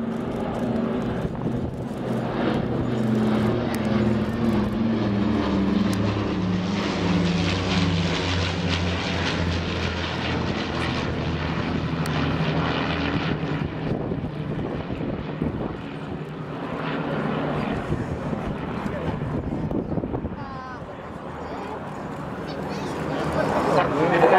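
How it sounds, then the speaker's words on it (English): An Avro Lancaster bomber passing over at RAF Coningsby, its four propeller engines giving a loud, sustained droning roar with shifting tones as it flies by, fading somewhat near the end while people talk. "The Lancaster is able to keep up with it."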